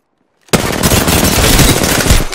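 Sustained automatic gunfire in the video game Apex Legends, a loud, close, continuous rattling burst that starts abruptly after a moment of silence and runs for about two seconds.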